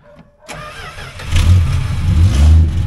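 A 1967 Plymouth Valiant engine catches after a brief quiet start, then revs up and holds a loud, rough, rising growl close by under light throttle, with no talk over it.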